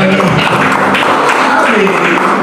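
A church congregation at an apartment worship service applauding, a loud, dense wash of clapping that fills the whole moment, with voices mixed in.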